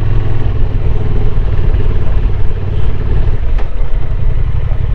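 A motorcycle running steadily on a foggy mountain road near Yedigöller, İspir in Erzurum, its loud engine drone and wind rumble constant and close throughout, with no talking.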